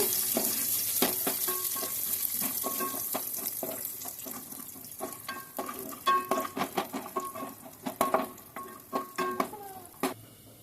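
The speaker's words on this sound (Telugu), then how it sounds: "జీడిపప్పులు వేగుతూ ఉన్నాయి, లైట్గా వేగినాయి" Cashews frying lightly in hot ghee in a pan for ravva payasam, a soft crackling sizzle broken by sharp scraping and clinking stirs that grow more frequent and pronounced toward the end.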